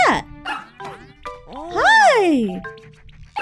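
A cartoonish puppy in Super Mario Maker 2 story mode gives a few short bright yips and barks, then a longer rising-falling whine, loud and close with game chimes around it.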